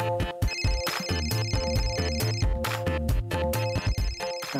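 A phone ringtone plays a loud, repeating electronic melody in short bouts, clear and with no talk over it.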